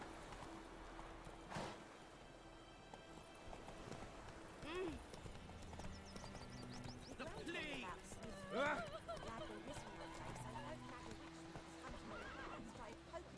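Roach, the horse in The Witcher 3, clip-clops along at a steady pace, with a few whinnies and snorts heard up close and faint game sounds in the background.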